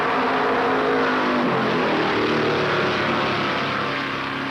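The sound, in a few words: stock cars starting a race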